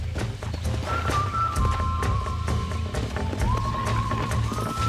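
A horse gallops in the Red Dead Redemption video game, hooves drumming in a quick steady rhythm under a musical score, close and fairly loud.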